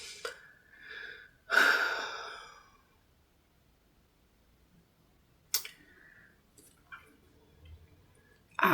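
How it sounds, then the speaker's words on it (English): One deep, audible breath is drawn in close to the mic, set among softer breaths and small rustles in a quiet room. "let me take a deep breath"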